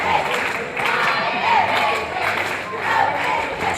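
Crowd cheering and shouting in a gym at a Chandler vs Okemah girls' high school basketball game, with the cheer squad rousing fans; a steady, loud wash of voices with rising swells of yelling throughout.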